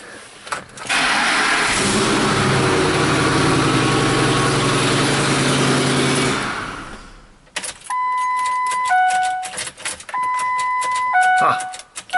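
A Ford F150 with the 5.4 engine starts with a loud cranking roar and runs for several seconds before cutting out. Sparse clicks and electronic chimes follow in quieter surroundings.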